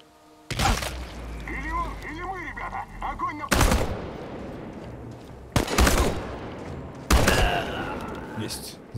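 Gunfire from Chernobylite, several sharp loud bursts spaced a second or two apart with echoing tails, close and harsh, with someone speaking between the shots.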